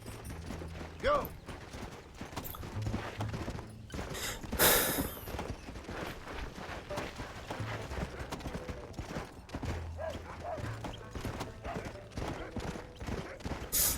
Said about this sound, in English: No, God, I want to get off my horse, though.